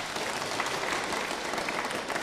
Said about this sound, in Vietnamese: xin cộng đoàn cho một tràng pháo tay.